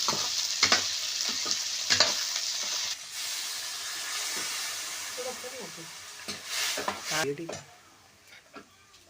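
Okra and green chillies stir-fry in oil in a pan over a wood-fired stove, a loud crackling sizzle broken by repeated clanks and scrapes of a spatula and a brief clatter near the end.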